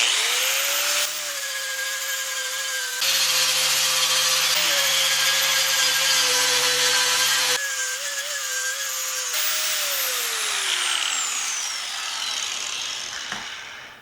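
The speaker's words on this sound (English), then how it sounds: "I'm gonna grind off the paint on the side" An angle grinder stripping paint from metal shopping cart parts, a loud continuous high whine that cuts out and restarts several times and winds down toward the end.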